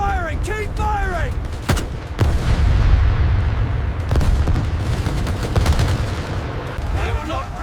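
Rapid bursts of gunfire and heavy artillery booms fill the scene of the Pearl Harbor attack, loud and continuous with sharp volleys piling over a rumbling low roar, while a voice shouts briefly in the din.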